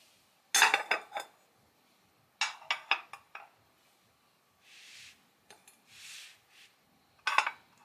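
Heavy ceramic bowls from a four-piece nesting set clink and clatter as they are stacked one inside another, several bursts of close, bright knocks separated by pauses and softer sliding scrapes.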